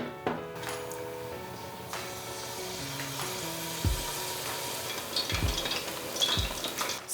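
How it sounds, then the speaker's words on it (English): Cod fritters fry in a pan with a soft steady sizzle, punctuated by several utensil clinks and scrapes against the pan, close and moderately quiet. "We're gonna fry these cod fritters."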